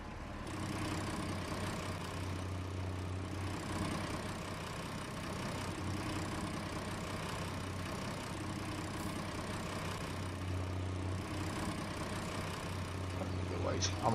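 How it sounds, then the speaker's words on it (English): A small tractor engine idles in the farming game Farming Simulator 19, a steady low, droning hum that holds evenly throughout at moderate volume. "I'll take the little tractor up with me."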